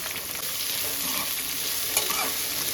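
Thinly sliced large onions frying in a pan for Salem chicken, with a steady close sizzle and a few stirring scrapes, no voices.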